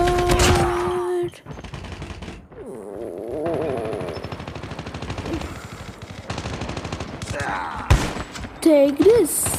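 Rapid automatic gunfire in Call of Duty Mobile rattles in long bursts across the stretch, loud and close, with a voice talking over parts of it.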